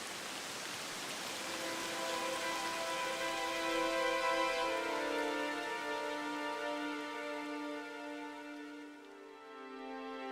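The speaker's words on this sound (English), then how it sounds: "This is how rain falls" Rain falls as a steady, close hiss of drops. Soft sustained musical tones sound over it throughout and fade near the end.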